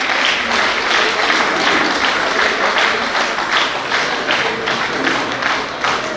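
An audience at a grand get-together in Chandrapur gives sustained applause to welcome guests onto the stage, a dense, even wash of many hands clapping that continues throughout.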